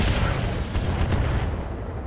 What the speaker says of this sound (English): Yeah, or acid mortars.